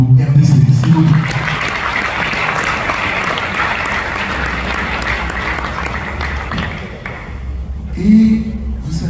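Audience applause welcoming the ambassador of DR Congo at a francophone gathering in Paris, a sustained dense round of clapping with a few thumps and a brief voice near the end.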